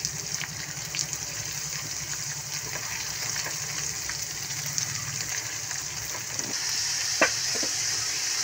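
Cabbage sautéing in a pan for Lucky Me instant noodles, a steady soft sizzle with faint stirring scrapes throughout, growing a little louder near the end.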